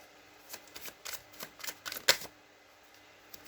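A deck of blessing cards gets shuffled at close range in a quiet room, a run of quick papery riffles and taps with one sharp snap near the middle, then it settles to near silence.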